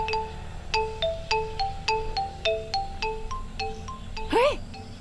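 A mobile phone rings with a repeating melodic ringtone from an incoming call, a steady looping pattern of bright tones that ends in a brief rising vocal sound.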